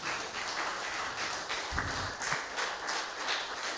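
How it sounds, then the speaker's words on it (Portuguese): Quiet, steady clapping from a church congregation at a Portuguese-language worship service, even and continuous at moderate distance with no voices. "Aplauda ao Senhor, queridos"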